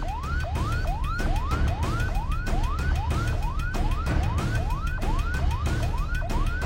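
An Edhi ambulance siren wails in a fast, repeating rising sweep, loud and close, over a dense rumble of Karachi traffic near Qayyumabad bridge, with no one speaking.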